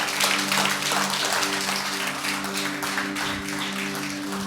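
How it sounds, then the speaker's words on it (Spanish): A church congregation applauds during a Sunday morning service, a loud, continuous rush of clapping layered over a sustained low keyboard chord. "Dele ese aplauso al Señor en esta mañana."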